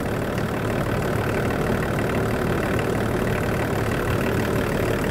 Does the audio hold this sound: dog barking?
no